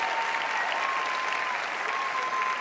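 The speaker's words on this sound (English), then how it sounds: "You can clap for that." A studio audience applauds during a television show's opening, a dense, even wash of many hands clapping at once, held steady throughout without a break and heard from within the crowd.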